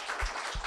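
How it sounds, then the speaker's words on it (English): Brief burst of audience clapping for veterans at a leadership event, a diffuse crowd patter with a couple of low thumps, moderately loud. "So please give our veterans a clap."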